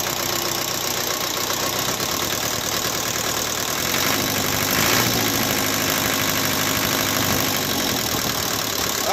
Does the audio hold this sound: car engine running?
yes